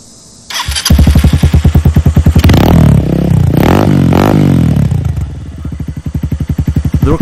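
A motorcycle with an open slip-on exhaust roars loudly up close, starting from a low idle into hard throttle blips and rising, falling revs, then settling back into a choppy, popping idle.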